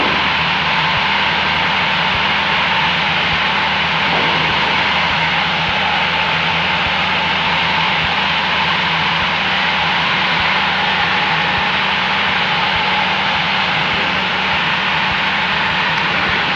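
Light training airplane engine on landing approach, a loud steady propeller drone droning on without pause, close and unbroken throughout, with no talk over it.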